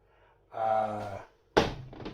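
Sudden thump as a camera gets knocked by accident in a home kitchen while pizza sauce is made, one sharp bump followed by a brief rattle, loud and close after a stretch of steady background sound.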